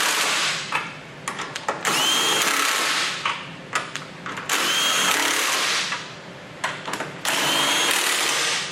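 Power tool tightening nuts on a Stealth Hitches hidden rack receiver on a 2017 BMW X5, whirring in three long close bursts separated by brief clicks and short pauses.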